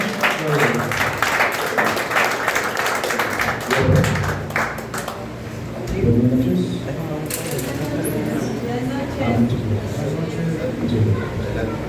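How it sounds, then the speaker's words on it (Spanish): Church congregation applause during an evening service, a brief burst of clapping at the start that fades into crowd murmur and voices talking over a low hum. "Un aplauso a Dios por la vida del pastor Joel."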